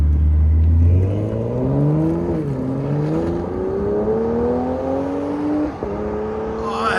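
A BMW M340i with its 3.0L engine and a Dinan axle-back exhaust revs in sport mode with the valves open. It rises from a deep idle drone into a steady climbing rev, loud and close, with a brief dip near the end.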